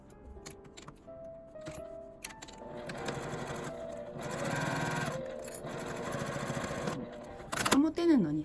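A sewing machine stitches the side seam of a divided fabric tent pouch, whirring in steady bursts with pauses and small handling clicks between, close by and alone.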